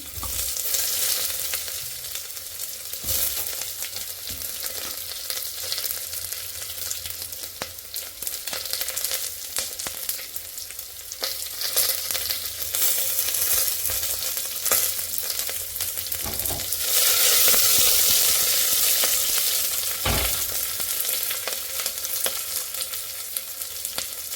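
Chopped onions sizzle and crackle in a hot pan for a home-style mutton gravy, a loud continuous fry with bursts of stirring and spatula scrapes, no voices.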